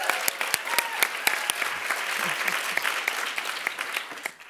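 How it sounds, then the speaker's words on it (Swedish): An audience at a Swedish feminist party election conference gives a short round of applause, dense and steady clapping from a moderate-sized crowd in a hall. "Vill du ha en applåd?"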